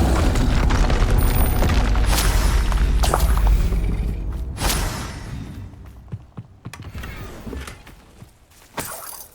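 Booming blasts and shattering crashes from Confringo spell explosions in Hogwarts Legacy, loud and dense in the opening seconds with another hard hit midway, then fading to scattered thumps and rumble.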